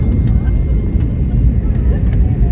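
A loud, steady low roar of an airplane engine at a small airport dominates, close by and unbroken.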